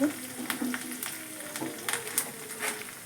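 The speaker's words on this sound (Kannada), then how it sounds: "ಚಟ್ನಿ ಒಗ್ಗರಣೆ ಮಾಡ್ತೀನಿ ನೋಡ್ರಿ ಇವಾಗ ಸ್ವಲ್ಪ ಸಾಸಿವೆ ಜೀರಿಗೆ ಬೆಳ್ಳುಳ್ಳಿ ಕರಿಬೇವು ಹಾಕಿ ಮಾಡಿ" Mustard seeds, cumin, garlic and curry leaves tempering in hot oil for paddu chutney, a light sizzle with scattered sharp pops and crackles, close and moderately quiet.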